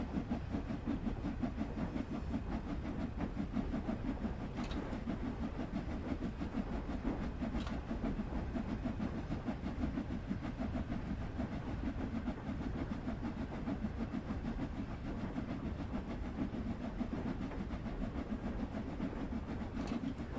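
Steam locomotive on a West Coast local line, worked hard with the regulator fully open, giving a steady, loud rumble and rhythmic chuffing with rail clatter throughout and no speech.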